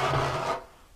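Trowel smoothing thin-set mortar on a shower wall tile, a single close, gritty scraping stroke about half a second long that fades quickly, no talk.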